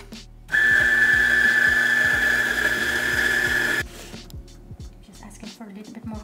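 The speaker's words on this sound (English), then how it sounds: "The first grind is to check the fineness" A Lelit William coffee grinder grinding espresso beans, a loud steady whirring whine that stops abruptly after about three seconds, followed by faint clicks and tapping.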